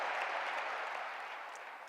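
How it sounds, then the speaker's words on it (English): Audience applause at a Teach For America talk, a soft, even wash of many hands clapping at a distance for two seconds, slowly tapering. "We can clap for that."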